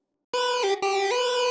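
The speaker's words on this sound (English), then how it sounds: "You now have a lead that sounds something like this." Melodic dubstep synth lead built in FL Studio with portamento glide, bright and harmonically rich, sustaining two long gliding notes with a short break between them, loud and alone.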